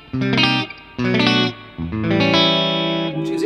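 A Fender Modern Player Marauder electric guitar with both humbuckers on plays through a clean amp channel: three loud strummed chords, each ringing out and sustaining, with no talk.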